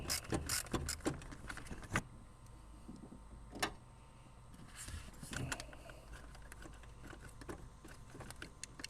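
A ratchet works a 10mm bolt loose on a Nissan Frontier engine during a camshaft position sensor replacement: quiet, irregular mechanical clicks and ticks with a few sharper snaps, close by and without talk.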